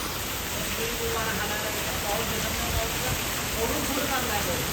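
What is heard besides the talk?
heavy rain with water flowing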